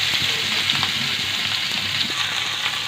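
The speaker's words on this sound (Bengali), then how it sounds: "এর মধ্যে আমি রুই মাছটা ভেজে নেব।" Rohu fish sizzles steadily in hot oil in a frying pan, a continuous loud crackling hiss with scattered pops and no talking.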